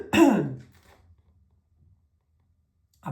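A single short cough or throat clear from a woman, close and fairly loud, followed by near silence.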